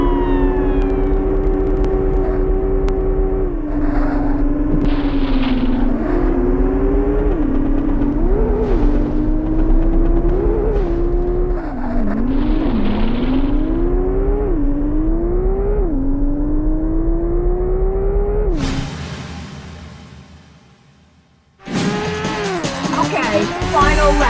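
Racing car engines from the video game Porsche Challenge, a continuous loud engine whine whose pitch repeatedly climbs and drops with gear changes, followed near the end by a brief dip and a burst of harsh noise.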